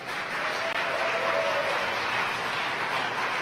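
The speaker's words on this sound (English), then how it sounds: "You can hear the applause at SpaceX." A crowd at SpaceX applauds steadily and densely during a Falcon 9 launch carrying ten Iridium NEXT satellites, a continuous wash of clapping heard from a moderate distance.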